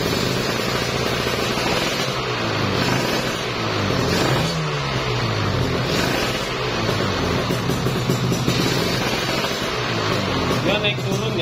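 A Kawasaki Ninja RR motorcycle with an electrical fault that dims its lamp is revved, giving a loud, close, continuous engine drone that rises and falls, with a voice talking over it.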